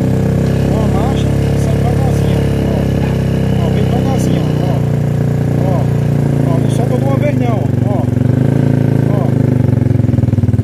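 A motorcycle engine runs loud and close at a steady idle with slight revving swells, while someone speaks over it throughout.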